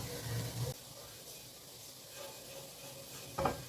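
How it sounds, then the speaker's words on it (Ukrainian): Soft dry sizzling and scraping as flour is toasted light brown in a pan, steady and quiet, with occasional louder scrapes. "Борошно треба трошки просмажити до світло-коричневого кольору."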